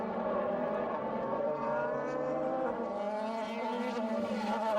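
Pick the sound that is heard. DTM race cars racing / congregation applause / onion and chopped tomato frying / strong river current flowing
DTM race cars racing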